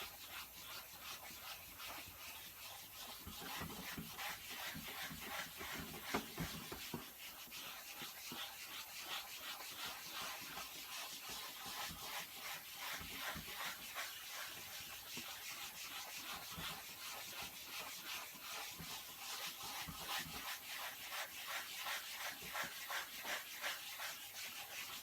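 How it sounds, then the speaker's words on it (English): Leather and vinyl repair compound is spread across a car seat, giving a continuous, close, soft scraping and rubbing with a steady back-and-forth rhythm throughout. "Now when you spread your great goop on, take your time, make sure you do it very smooth and flat."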